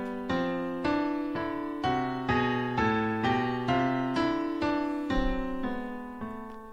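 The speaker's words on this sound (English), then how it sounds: "I think this sounds really cool if you hear this going in contrary motion" Two-handed piano lines move in contrary motion through a melodic minor scale, one voice ascending while the other descends, in an even series of clear paired notes heard close and alone.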